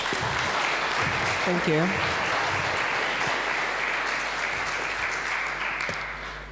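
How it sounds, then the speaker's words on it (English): Audience applause welcoming a speaker onto the stage at a startup incubator demo day, steady and sustained clapping from a large crowd, with a brief spoken thanks over it early on, then slowly fading. "Please give her a warm welcome. Applause."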